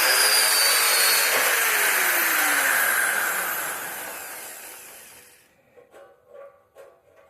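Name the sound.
Towallmark 7.5-amp hammer drill drilling with black bit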